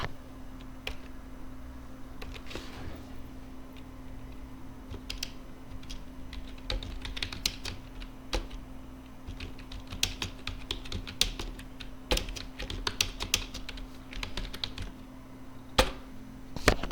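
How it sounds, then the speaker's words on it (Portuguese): Close computer keyboard typing a Portuguese sentence, with uneven runs of crisp key taps and short pauses over a steady low hum, without speech. "eu vou digitar aqui para vocês verem"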